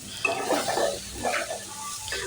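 Red lentils and potato being stirred in a pan, bursts of scraping and wet sizzling from a spoon moving through the mixture, close and fairly loud, no speech.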